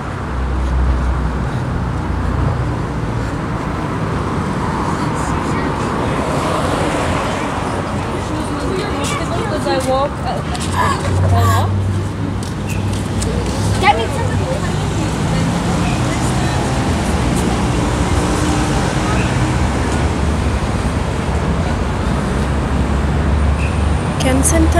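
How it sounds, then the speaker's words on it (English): City traffic at the intersection of Memorial Drive and 10th Street North in Calgary, a steady wash of passing cars and road noise with occasional louder vehicles, heard under a person talking. "Right now I'm in the intersection of Memorial Drive and 10th Street North."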